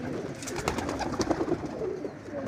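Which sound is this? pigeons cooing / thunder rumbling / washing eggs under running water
pigeons cooing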